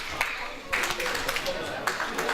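A wrestling crowd claps and cheers for Johnny Lyons at a live event, with bursts of applause rising and falling over a steady hum of noise.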